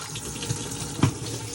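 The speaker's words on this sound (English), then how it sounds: "After you've used the toilet, give it a good flush." A toilet flushes in a Carado A464 motorhome, a steady rush of running water throughout with a couple of brief knocks, close and fairly loud with no talking.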